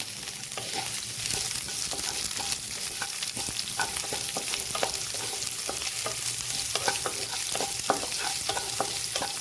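Onion and garlic sautéing in a pan, a steady close sizzle broken by repeated clicks and scrapes of a spatula stirring, continuous throughout.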